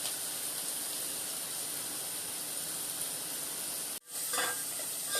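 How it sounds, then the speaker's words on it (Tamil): Onions sizzling and frying in a pan, a steady, dense hiss running throughout with a brief dip near the end when stirred, close and fairly loud, no voices. "வெங்காயம் நல்லா கொஞ்சம் ரோஸாக வதங்கும்."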